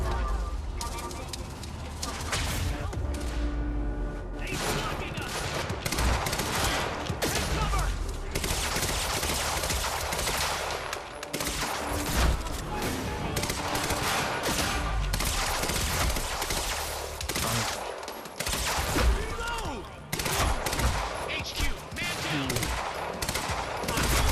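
Rapid bursts of sniper and automatic gunfire fill a Quantum Break firefight, loud and continuous with dense volleys and brief lulls, while a voice speaks under the shooting.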